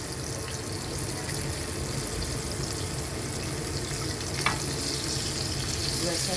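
Onion and garlic frying in a pan give a steady, loud sizzle throughout, with faint stirring noises on top and no speech.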